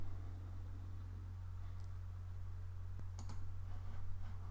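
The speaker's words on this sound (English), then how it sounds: "Click on that, and we'll click OK." Computer mouse clicks while exporting a table into Excel, a few sharp isolated clicks over a steady electrical hum, quiet and close.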